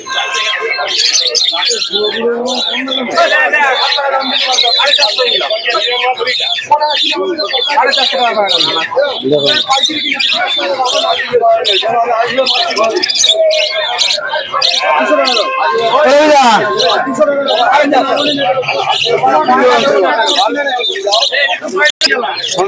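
Fancy pigeons, Lahori among them, call and coo at the busy Santipur pigeon market, mixed with other chirps and squawks and largely buried under loud nearby talking and crowd babble.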